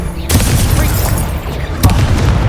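A Confringo spell explodes in the game Hogwarts Legacy, heard as loud, rumbling booms under continuous busy game noise, with a sharp burst early and another near the end.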